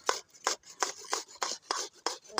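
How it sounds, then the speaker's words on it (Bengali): Raw mango rasped against a grater in a steady rhythm of about eight scraping strokes, each a short bright rasp separated by brief pauses, close and alone without talk. "দেখো বন্ধুরা কিভাবে গ্রেট করে"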